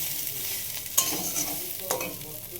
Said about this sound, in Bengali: এতে আলু দিয়ে দিয়েছি, এবার আলুটা দিয়ে একটু নাড়াচাড়া করার পর